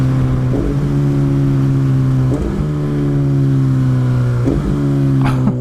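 A motorcycle fitted with an aftermarket exhaust and quick shifter accelerates hard, its loud, close engine drone rising in pitch and breaking briefly at each quick upshift, three or four times.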